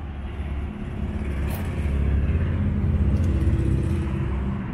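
Car driving along a road near Sacramento, California, a steady low engine and road rumble held close and fairly even throughout, with no talking.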